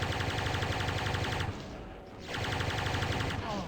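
Rapid gunfire in DOOM during a fight with the Spider Mastermind: dense, loud rattling bursts fill the clip, broken by a brief lull midway before the shooting resumes.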